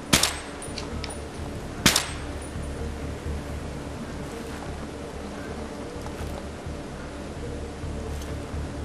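Gunfire in the Battlefield 3 video game, two sharp loud shots standing out over a constant rumbling battle backdrop, with fainter distant pops and cracks scattered throughout.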